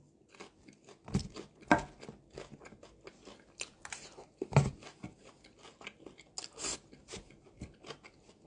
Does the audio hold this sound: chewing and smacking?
yes